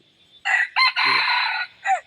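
A fighting cock crows loud and close in one long, broken cock-a-doodle-doo, followed by a brief extra call.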